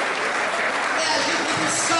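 A church congregation applauding in worship, dense continuous clapping from many hands throughout the short stretch, fairly close and loud.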